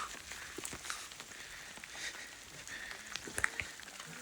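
Rain falling steadily on a rocky mountain trail on the way to San Jacinto, a soft, even hiss of fine patter, fairly faint and unbroken throughout.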